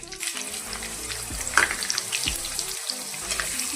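Cumin, mustard seeds and finely chopped chillies fry in hot oil for street-style Mumbai vada pav, giving a steady close sizzle with a few sharp pops and spatters throughout.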